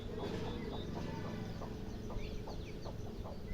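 A brood of eight one-month-old white turkey chicks peeps and chirps nearby in a rapid, overlapping chorus of short calls, steady throughout.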